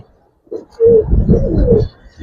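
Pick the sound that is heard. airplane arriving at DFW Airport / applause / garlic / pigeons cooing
pigeons cooing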